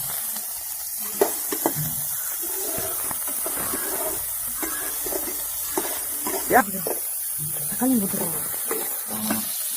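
Onions go into hot oil for a village-style crab gravy and give a steady hiss and sizzle throughout, broken by occasional stirring clatter, while someone speaks over the cooking.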